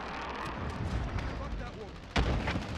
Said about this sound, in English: Enemy precision airstrike. Take cover. Enemy cruise missile incoming.